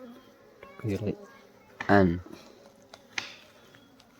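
Apis cerana bees buzz around a wild honeycomb in the jungle, a faint steady drone under brief bursts of close speech and rustling.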